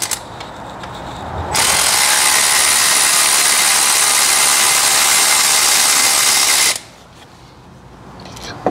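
A power tool fitted with an extension and 10 mm deep socket runs on a bolt of a Jeep Wrangler during a thermostat replacement, a loud continuous whirring burst of about five seconds that cuts off abruptly, close up.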